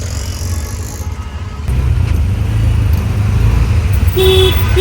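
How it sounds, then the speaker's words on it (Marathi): Busy road traffic in Mumbai with engines rumbling close by, a short car horn toot near the end over the constant roar. "मुंबई म्हटल्यानंतर फुल ऑन ट्रॅफिक असतं"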